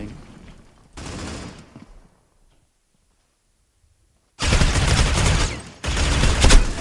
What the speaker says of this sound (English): By randomly shooting.